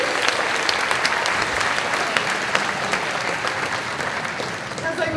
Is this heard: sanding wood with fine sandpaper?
no